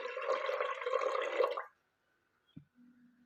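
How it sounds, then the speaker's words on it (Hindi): Water pours into a pressure cooker holding chana dal for about a second and a half, a close rushing splash that stops abruptly, followed by quiet and a light clunk. "अब हम इसमें इतना पानी डालेंगे, तकरीबन 2 प्याली पानी डालेंगे"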